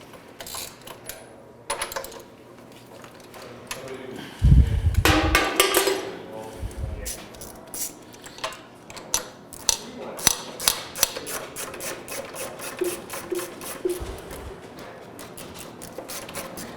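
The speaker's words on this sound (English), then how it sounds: "You just got to loosen those 1/2-inch bolts there." A wrench works the half-inch bolts on an 888 Bi-Fold machine, giving a run of sharp metallic clicks and knocks that speeds up toward the end, with a person speaking at points.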